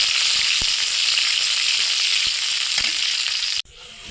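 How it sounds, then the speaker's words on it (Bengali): Onions sizzle steadily in hot oil with a dense, crackling hiss and a few soft clicks, cutting off abruptly near the end. "পেঁয়াজ কুচিটা দিয়ে দেবো, একটু ভাজা ভাজা করে নেব"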